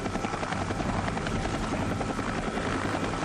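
Large military CH-46 and CH-47 helicopters of the air cavalry, carrying 105mm howitzers to landing zones, make a dense, steady rotor and engine roar throughout, loud and unbroken, with no voices.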